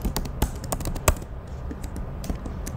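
Keystrokes rattle on a computer keyboard in irregular bursts of close, crisp taps with brief pauses between them as someone enters CSS code.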